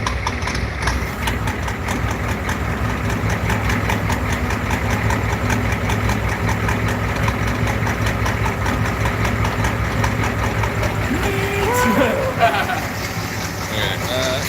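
A cammed Ford Galaxie V8 idling with a lumpy, choppy rhythm that surges now and then without throttle input, steady and close, with people talking over it.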